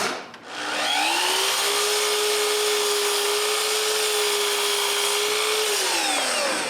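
A power saw cuts wooden edging strips at 45 degrees for a small workbench, spinning up after a brief pause into a loud, steady whining cut that holds for several seconds before winding down.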